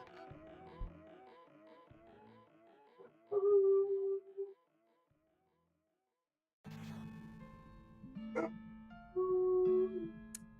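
Dog yipping and whimpering in short, high, squeaky bursts alongside tonal electronic blips, with a silent gap in the middle before denser sounds return.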